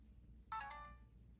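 Short ringtone chime from the small built-in speaker of an LG Escape 3 phone, a single bright burst of bell-like notes lasting about half a second, faint over a quiet room hum.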